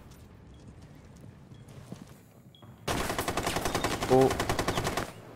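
Rapid automatic gunfire in Rainbow Six Siege bursts in loudly after a quiet stretch, a dense rattling stream of shots lasting a couple of seconds, with a brief exclamation beforehand.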